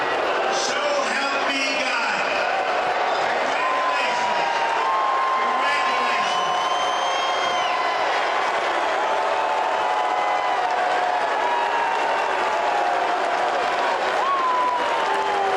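Crowd applause and cheering with whoops at a swearing-in ceremony, continuous loud clapping throughout with voices and shouts mixed in.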